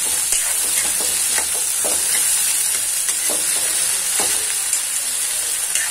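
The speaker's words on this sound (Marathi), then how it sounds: "याला छान खरपूस भाजून घ्यायचं आहे।" Diced potatoes roast in a pan for batate poha, giving a steady, close sizzling hiss with soft scraping stirs at intervals throughout.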